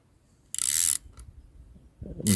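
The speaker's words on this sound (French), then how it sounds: "Il faut bien que tu appuies pour pas que ta clé elle saute sur les pas de" A wrench ratchets while tightening a nut on a quad bike: two bursts of close, rapid clicking, the second starting at the end, with a quiet pause between them.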